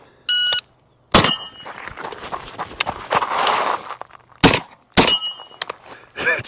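A shot timer beeps, then a CZ Scorpion 3+ fires at large steel targets at an outdoor range. Several sharp, loud cracks are each followed by a ringing metallic clang, spaced irregularly across the stretch, with no talking.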